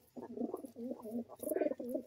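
Pigeons coo close by in a loft, a run of soft, throaty rolling calls repeating in short phrases with brief pauses between them.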